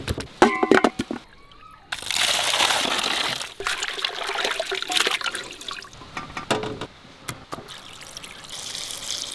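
Running water washes raw chicken drumsticks, gushing and splashing in uneven bursts close by, with clattering handling noises between the flows.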